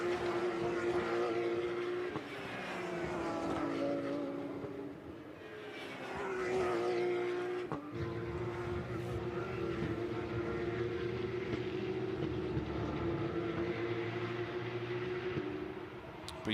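Porsche Carrera Cup race cars lap the TT Circuit Assen, with engines droning and whining through rising and falling pitch sweeps as cars pass, a continuous faint roar from start to finish.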